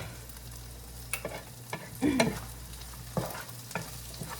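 Sweet potato being stirred and smashed for gnocchi, with several scattered scraping knocks and one louder mashing burst in the middle, close by and with no voices.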